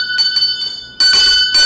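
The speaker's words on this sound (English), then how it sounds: "We have our bells ready." Bright metallic bells rung for a radio show giveaway, loud and close, in two short jangling bursts with a brief pause between.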